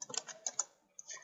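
Quick, close clicks of a computer keyboard as code is typed, a short burst of keystrokes, a brief pause, then a few more taps.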